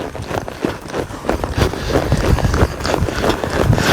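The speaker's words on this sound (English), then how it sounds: "This is a horse that's always looking to go faster." Hooves of a trained riding horse running fast in an arena, a quick rhythmic drumming of hoofbeats that grows slightly louder and denser, close and continuous with no talking.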